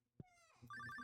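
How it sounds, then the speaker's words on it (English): Phone ringing in Stardew Valley, a soft click followed by a bright, faint electronic ring tone with rapid pulsing trills, alone and quiet. "Your phone's ringing."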